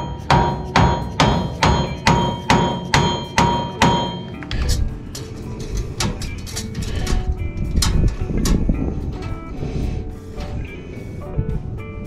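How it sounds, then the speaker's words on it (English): Dead blow hammer strikes a trailer hitch into alignment on a 1992 Dodge Dakota, giving about nine loud, evenly spaced blows over the first four seconds, then scattered lighter taps and knocks over shop rumble. "I'm going to try to do that with a dead blow"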